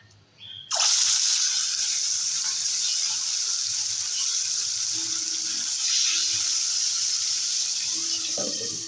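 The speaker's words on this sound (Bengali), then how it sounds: "নুন হলুদ মেখে নিয়েছি মাছগুলোকে ভেজে নেবো" Salted, turmeric-coated aar fish frying in hot oil, a steady loud sizzle starting abruptly after a brief quiet moment and continuing without pause, with faint clinks underneath.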